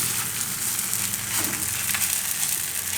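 Aloo palak paratha roasts in ghee on a hot pan, a continuous close sizzling hiss that stays even and unbroken throughout, with no voices.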